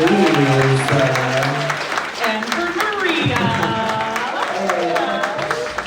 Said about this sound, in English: everyone, one round of applause for Brittany, please